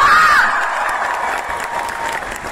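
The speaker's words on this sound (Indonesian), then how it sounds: "tepuk tangan dulu buat kalian semua" A concert crowd at a show claps loudly, with some cheering and whoops mixed in, strongest at the start and easing slightly toward the end.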